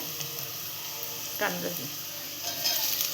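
Onions frying on a high flame for prawn rice sizzle steadily, then chopped tomatoes drop into the pan with a brief burst of hissing and stirring before the sizzle settles again.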